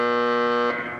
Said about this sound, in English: A buzzer there.